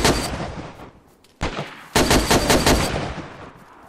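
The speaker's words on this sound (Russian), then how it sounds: "У нас стрельба." Gunfire in the survival game DayZ: loud, close shots in rapid repeated bursts, with a brief pause before a dense, sustained volley.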